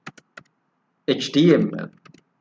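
Computer keyboard typing on a Windows PC, a few light separate key clicks followed by someone speaking, then a couple more faint taps.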